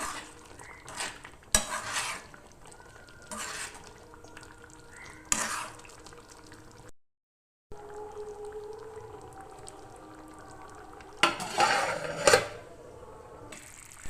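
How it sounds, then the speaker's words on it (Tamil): Boiled eggs are stirred into a curry masala in a pan, with repeated metallic spoon scrapes and soft sizzling. After a brief silence comes a quieter simmer, then clattering as a lid is set over the pan. "ஆட் பண்ணி கொஞ்சம் மிக்ஸ் பண்ணி விட்டுட்டு மூடி போட்டு அஞ்சு நிமிஷம் வேக வச்சிடலாம்"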